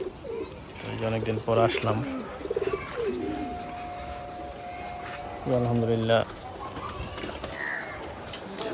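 Pigeons in a loft coo in low, repeated throaty phrases close by, with lighter chirps, while the birds feed and someone speaks over them.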